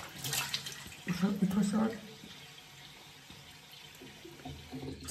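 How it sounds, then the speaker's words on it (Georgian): Water runs from a tap in a household sink or tub, a steady faint rushing close by, with a voice speaking briefly over the start before the flow carries on alone. "ამიტომ წყალი ამოდის"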